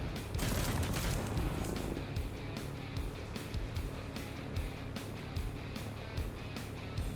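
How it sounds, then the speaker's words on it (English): Rapid bursts from a Trailmakers tank's eight autocannons rattle in quick succession, a dense stream of sharp repeating shots with a low rumble beneath. "it has 8 cannons that fire very rapidly with high acceleration"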